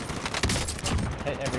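Rapid gunfire from the video game Modern Warfare rattles in a dense burst of shots, loud and continuous for under two seconds, with a voice talking underneath.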